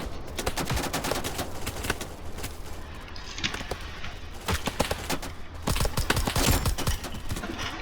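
Pistol shots fired in the Roblox shooter BRM5 ring out as rapid, sharp cracks in quick clusters, loud and close, with several bursts spread across the stretch.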